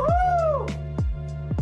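A cat meows in the animated film Lightyear, a clear near drawn-out meow followed by a few short chirping mews, loud and heard alone.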